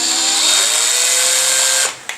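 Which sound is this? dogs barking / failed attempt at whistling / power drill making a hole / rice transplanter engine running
power drill making a hole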